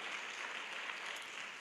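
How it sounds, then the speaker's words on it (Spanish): Church congregation clapping steadily together, a dense, continuous wash of applause with no voices standing out, moderately distant and even in loudness throughout. "Dale un aplauso al Señor"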